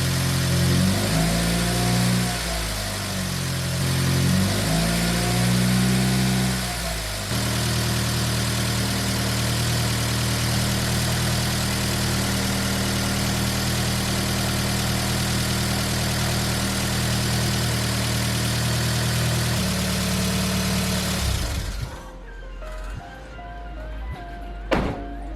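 Mitsubishi Evo 9 engine running after a cylinder head install, starting with a few revs then settling into a steady loud idle with noticeable valve train clatter, close up, before cutting off near the end.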